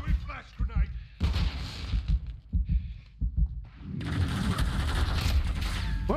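Bursts of gunfire in a video game firefight crack out in uneven volleys, mixed with busy in-game effects and clipped voices. The shooting grows into a dense, steady roar over the final seconds.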